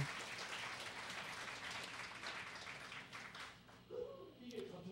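Dense applause from a crowd fills most of the moment, then fades out as a voice begins speaking near the end.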